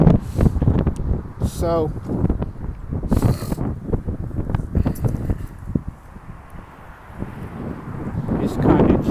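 Steady outdoor wind noise buffets the microphone while someone talks close by, with a few brief rustles and thumps.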